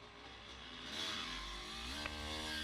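A motorcycle engine runs steadily as the bike rides around a track, its droning note rising and falling slightly with throttle, heard close from the rider's position under steady wind noise, with no talking.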